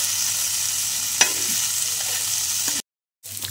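Okra, gathered from the fields, sizzles in a pan after salt is added and is stirred, a steady close frying hiss with a single scrape of the spoon before a brief cut to silence.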